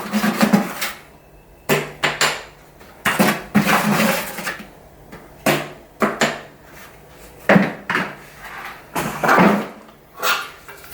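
Tile adhesive spread across a floor with a 10mm notch trowel while replacing a cracked tile, repeated scraping strokes with knocks and pauses between them, loud and close.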